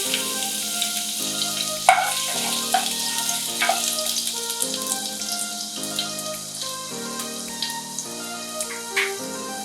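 Garlic sizzles and crackles in hot oil in a pan, a close, continuous frying hiss with scattered pops and spits and no voices.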